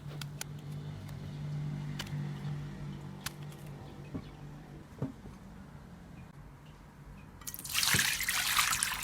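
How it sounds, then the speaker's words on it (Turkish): Water poured into a glass baking dish of quartered eggplants, a bright splashing pour that rises near the end after a quiet stretch of faint kitchen clatter. "Borcamımın içerisine patlıcanlarımı sulayabilecek kadar su döküyorum."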